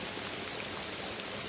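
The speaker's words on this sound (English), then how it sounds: "Started to rain." Rain falls around a cabin during a severe storm, a dense, even hiss of drops that holds steady throughout with no voices.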